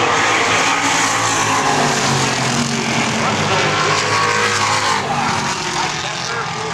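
Race car engine roaring at a racetrack during Super Stock trophy dash racing, a loud sustained drone with tire noise that stays dense and continuous throughout, with a commentator talking over it.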